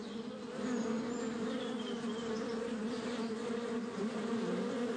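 Honeybee workers swarm around beehives, flying home with pollen and nectar: a dense, steady buzzing hum that stays close and continuous throughout, with no voices.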